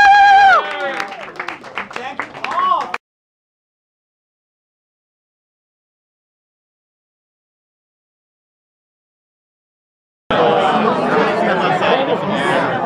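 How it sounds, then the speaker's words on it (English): An art show crowd breaks into loud applause and chatter, first briefly with voices, then after a silent gap a dense wash of clapping and crowd noise close by. "So give Tracy a round of applause."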